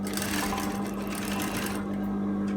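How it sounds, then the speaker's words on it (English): A sewing machine stitches around the armhole of a lined dress with a steady, loud, unbroken mechanical whir and hum, with no talking. "Alright, so I'm just stitching around the armhole."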